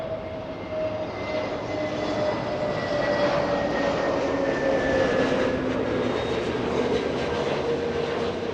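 An Airbus A321neo arriving from Las Vegas at Los Angeles International Airport passes with a sustained jet roar and a gliding engine whine that slowly falls in pitch, moderately close and heard alone.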